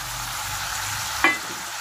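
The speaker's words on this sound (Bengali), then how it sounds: "এবার আমি মশলার পেস্টটা দিলাম।" Spice paste frying in a pan for bhola fish curry gives a soft, steady sizzle with one brief sharp hiss or clatter near the end.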